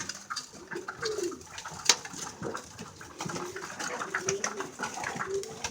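Pigeons at a pigeon loft cooing softly nearby, low throaty calls repeating over a quiet background with faint rustling and a few light knocks.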